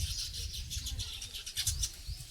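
Several kinds of birds nesting nearby give short, bright chirps and tweets in quick, irregular bursts over a low rumbling background.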